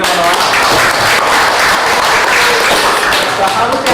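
Audience at a declaration event in Jakarta giving sustained, loud applause for the speakers, dense clapping throughout with some crowd noise and a voice mixed in.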